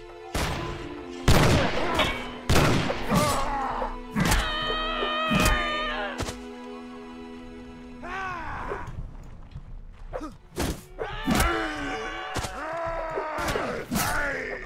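Musket volleys from troops in the Mount and Blade Gekokujo mod, with several sharp gunshot cracks in quick bursts, mixed with groans and shouts of hit soldiers.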